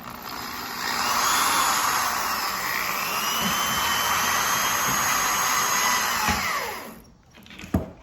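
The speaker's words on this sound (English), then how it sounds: "I hook my drill up and hold those 2 nuts like I showed you" A power drill spinning two hand-held nuts whines steadily at high speed for several seconds, its pitch gliding up and down, then cuts off, followed by a few clunks.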